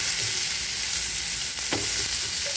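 Onions with salt fry in a pan, giving a continuous bright sizzle close by. A single clear scrape of a spoon cuts through near the middle, and no one talks.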